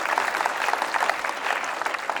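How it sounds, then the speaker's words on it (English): Steady, dense audience applause fills a live stage event, many hands clapping at once at an even, sustained level with no pauses. "That deserves a round of applause."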